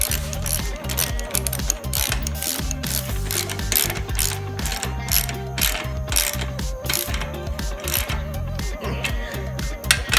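A ratchet clicks steadily and loudly up close as exhaust bolts are tightened on a Honda XR250R motorcycle, with fast repeated pawl ticks and metallic mechanism noise running throughout.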